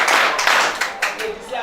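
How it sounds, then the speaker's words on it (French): Secondary-school students in Ahala clapping during a nutrition-education program: a short, close burst of hand claps that thins into a few separate claps, with voices mixed in. "Applaudissez pour vous-même."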